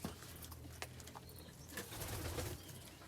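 Pigeons in a loft, with soft cooing and brief wing flaps over a continuous faint background hum, fairly distant and quiet.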